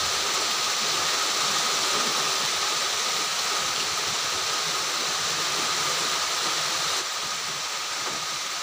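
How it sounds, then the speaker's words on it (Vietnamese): Stream water flows steadily outdoors during heavy rain, a constant broadband rushing wash that stays even and fairly loud throughout with no talking. "nước chảy suối các bạn"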